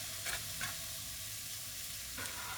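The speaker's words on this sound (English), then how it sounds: "You hear that sizzle, right? That's actually what you'd like to hear each time you put veg into a pan." Peppers and onions sizzle steadily in a preheated hot pan, a soft continuous hiss with a few brief stirring scrapes and no talking.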